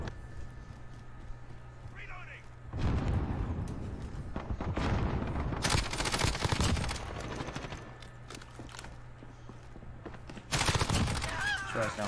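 Automatic gunfire from a RAM-7 rifle in the Modern Warfare video game, loud bursts of rapid shots in several clusters, with some voice and game sounds in between.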